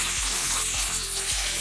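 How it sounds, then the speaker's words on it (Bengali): Cleaned gugli snails hitting a hot wok in a Bengali-style curry, a loud dense sizzle with rhythmic low scraping strokes repeating about every half second as they are stirred, no talking. "এবার আমি এটা ছেড়ে দিচ্ছি কড়াইতে"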